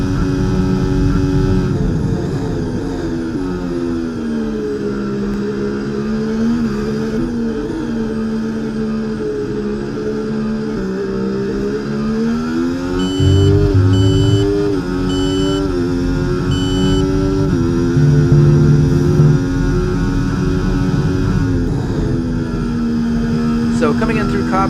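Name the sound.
F1 24 video game race car engine downshifting at Silverstone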